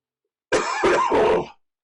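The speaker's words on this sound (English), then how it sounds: "Dad cough." A man gives a short burst of three quick, close coughs, loud and dry, with nothing else around them.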